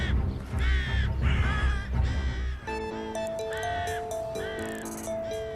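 Crows cawing around the Kremlin domes in Moscow, a series of loud, harsh repeated caws from several birds, followed by music entering beneath the calls.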